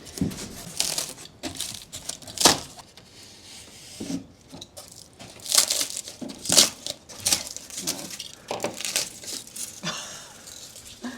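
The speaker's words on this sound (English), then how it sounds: "Just cutting off the excess insulation that we had." Excess insulation being cut and trimmed during curved-wall work inside a 1975 Viscount Ambassador vintage caravan, heard up close as scattered crinkly, crunchy tearing bursts with quieter rustling between them.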